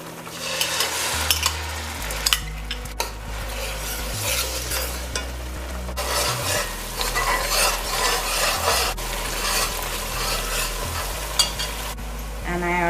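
Cassareep chicken cooks in a pot with a close sizzle broken by repeated stirring scrapes and spoon knocks, bursts of frying swelling and fading without any talk.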